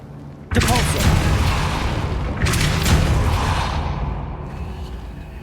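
A Depulso spell cast in the video game Hogwarts Legacy lands as two heavy booms with a rushing whoosh, each blast decaying slowly into a rumbling tail.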